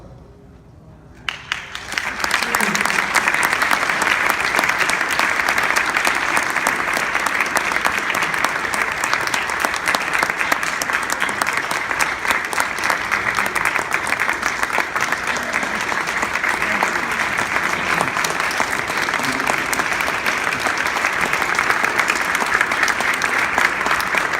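After a brief quiet start, a large audience at a volunteer awards celebration bursts into loud, steady applause that holds evenly for over twenty seconds.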